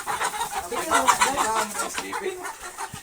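Chickens cluck and squawk in a busy, overlapping chorus, close by, with quick repeated calls and no clear pause.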